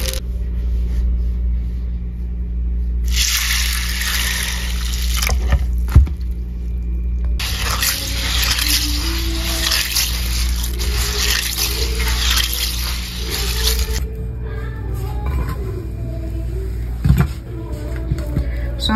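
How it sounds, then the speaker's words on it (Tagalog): Tap water runs steadily into a kitchen sink while mung beans are rinsed, a continuous close splashing rush that swells and fades in bursts with faint handling clatter, no voices. "hugasan muna natin yung ating munggo"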